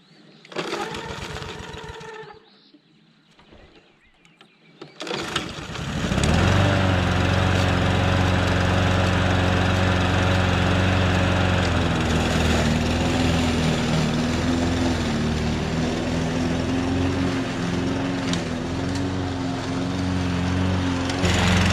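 A Husqvarna LC22 all-wheel-drive lawn mower that has sat unused for a year is pull-started, catches after a couple of seconds and keeps running with a loud, steady, close engine drone.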